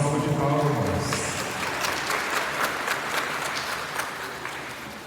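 A church congregation applauds right after a baptism, with loud, full clapping that starts strong and slowly thins out over several seconds in a reverberant hall.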